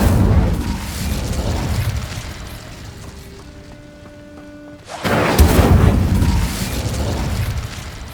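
Incendio fire spell cast in Hogwarts Legacy, a deep whooshing roar of flame that fades into a quieter stretch with faint tonal chimes, then bursts loudly again.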